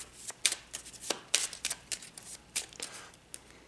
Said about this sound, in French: Donc, on va remélanger les cartes.